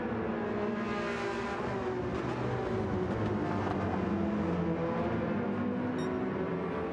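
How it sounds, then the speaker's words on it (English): A racing car engine roars steadily at high revs at the Brands Hatch circuit, a dense continuous drone with harmonic whine, heard at moderate distance without talk. "That too is a brilliant sounding car."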